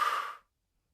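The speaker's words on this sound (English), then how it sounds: "fast breathing" One short, breathy exhale like quick, nervous breathing. It is soft and close, fades out after under half a second, and is followed by silence.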